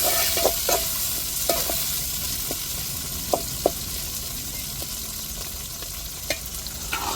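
Chopped tomatoes sauté with onions in a pan under a steady, close sizzle, punctuated by sharp spatula taps and scrapes at irregular intervals as the mix is stirred, with no voices.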